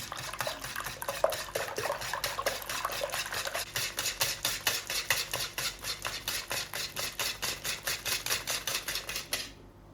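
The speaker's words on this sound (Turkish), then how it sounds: "çırpıcı yardımı ile güzelce köpükleninceye kadar çırpmaya devam edelim" A whisk beats eggs with salt and water in a bowl, producing steady rhythmic clicking and swishing strokes that grow evenly spaced and quicken, close and clear, stopping abruptly at the end.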